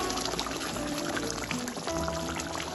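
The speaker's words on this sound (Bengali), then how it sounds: "এবার আমি উপর থেকে 1 চামচ মতো একটু সর্ষের তেল দিয়ে দেবো।" Mustard oil is spooned over fish simmering in a mustard paste in a pan, a steady close sizzling pour that runs continuously for a few seconds without any talking.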